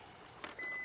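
A Pool Ease robotic pool cleaner gives a single short electronic beep as it powers on, faint and close, then a steady thin high tone follows briefly.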